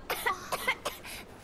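A character in Final Fantasy XVI coughs in a short run of about four soft, hoarse bursts, close and quiet.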